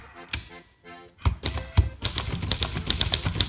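Typing on a 1957 Royal Royalite manual typewriter, heard up close as a brisk run of sharp key strikes that grows dense and steady after a brief pause, with no talking.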